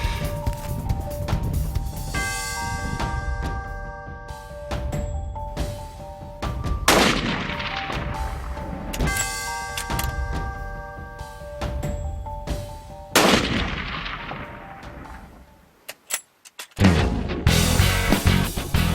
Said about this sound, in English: we got some shooting, Pops.